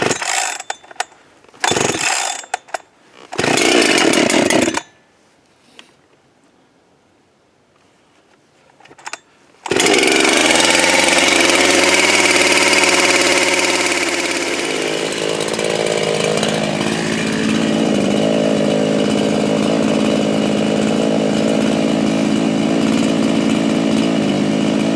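A Husqvarna 372XP X-Torq chainsaw engine sputters in a few short bursts, pauses, then roars to life and runs steadily at a loud, close, buzzing idle.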